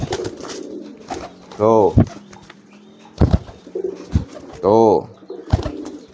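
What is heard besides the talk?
racing pigeons cooing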